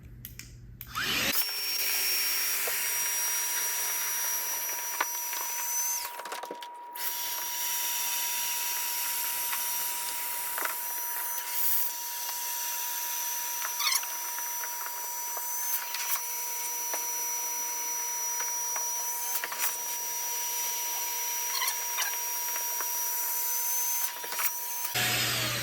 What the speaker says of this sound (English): just finished with the mini inflator